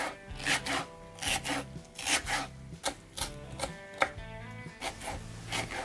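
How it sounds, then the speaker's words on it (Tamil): Knife chopping vegetables into small pieces on a board, a quick rhythmic series of close, crisp strokes repeating in bursts, with music playing underneath. "இந்த மாதிரி சின்ன சின்னதாக கட் பண்ணிவிட்டு இப்படி இப்படி நம்ம கட் பண்ணிட்டோம்னா"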